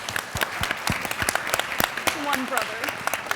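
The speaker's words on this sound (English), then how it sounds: "Round of applause for all the guys that did come." Clapping from a small audience at a women in HVAC/R event, thanking the men who attended, with sharp separate claps and a voice speaking over it partway through.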